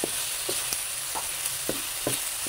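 Pork neck sautéing in oil with shrimp paste for Bicol express, a steady close sizzle broken by several soft stirring scrapes of a utensil in the pan.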